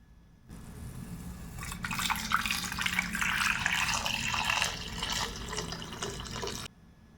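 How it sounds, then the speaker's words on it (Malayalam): Water runs into a pressure cooker holding cut sweet potato, a close, steady splashing pour that swells and then cuts off. "ആവശ്യത്തിന് വെള്ളം നമ്മളിതിലേക്ക് ചേർത്ത് കൊടുക്കുക."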